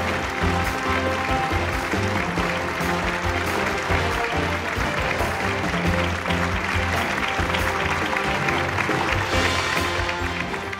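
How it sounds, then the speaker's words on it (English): Sustained audience applause at an education awards ceremony, a loud dense wash of clapping from a large crowd that holds steady throughout without talk. "Please give them a big round of applause."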